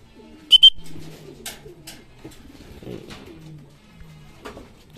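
Racing pigeons arriving home after a 105 km training flight in Lupao, Nueva Ecija, cooing in low, repeated throaty calls, close by, with a brief chirp and faint background activity.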